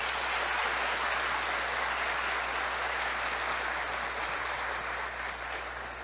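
Audience applause for event volunteers at a talk, a dense, even wash of many hands clapping, loud and sustained without pause, fading slightly toward the end.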